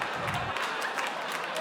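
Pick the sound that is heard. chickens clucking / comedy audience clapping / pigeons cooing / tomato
comedy audience clapping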